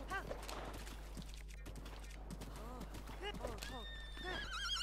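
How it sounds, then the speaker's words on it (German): A horse in The Legend of Zelda: Breath of the Wild whinnies and clip-clops in game audio, with someone speaking over the sounds. "Ja, und wenn man nicht zählen kann, dann wirft einen das Pferd runter."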